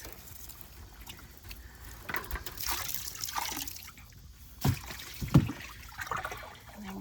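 Water pours into tanks in the back of a pickup truck with a broken tailgate, a steady trickle and splash, with louder gushing bursts near the middle and end, fairly close.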